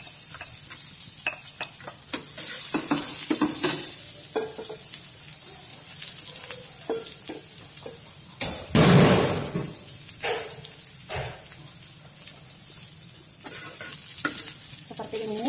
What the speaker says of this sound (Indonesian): Miss Fitri akan panaskan teflon untuk mensaute bawang merah dan bawang putih